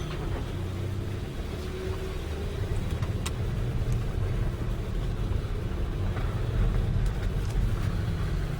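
A rental car creeps slowly over muddy holes on a woodland track, giving a continuous low engine rumble with small bumps and knocks, close and steady, with no speech.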